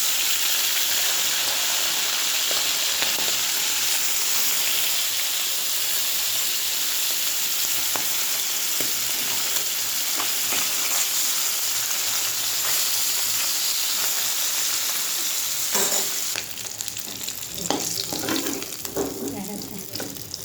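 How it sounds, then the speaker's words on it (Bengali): Shrimp frying in hot oil give off a loud, dense, steady sizzle held close by for most of the stretch, then it quiets and grows patchier near the end, with scattered clinks of handling. "চিংড়ি মাছটা ভাজা,"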